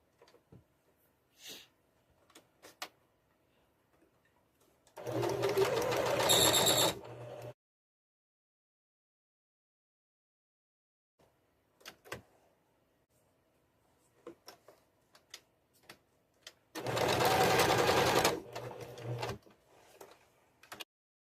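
A sewing machine stitches a curtain rod pocket in two loud bursts of rapid mechanical whirring, separated by quiet stretches of soft handling clicks and fabric rustle.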